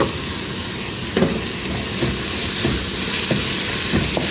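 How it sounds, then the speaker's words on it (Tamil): Green mung beans sautéing in a pan, a loud steady sizzle with a few soft stirring thumps spaced through it, no voices. "இப்போ நம்ம பச்சை பயிறு போட்டுருவோம் இது வதக்கிடலாம் எல்லாத்தையும் போட்டோம் போட்டு நல்லா வதக்கி விடுவோம்"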